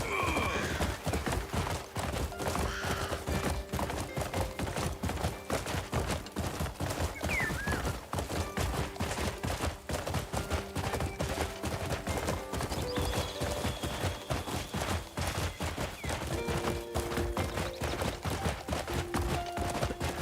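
Hooves of a horse galloping in the video game Crimson Desert beat a fast, steady clip-clop rhythm under a soft music bed, close and continuous.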